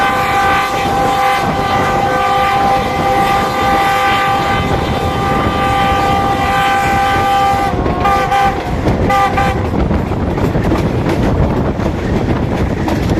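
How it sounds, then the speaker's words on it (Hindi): The Shalimar Express rolls through Lahore Cantt railway station, loud and close, with a sustained horn blast and the continuous rumble and clatter of wheels and wagons passing. "इस वक्त लाहौर कैंट रेलवे स्टेशन से थ्रू पास हो रहा है ट्रेन का, लाहौर जंक्शन से निकलने के बाद"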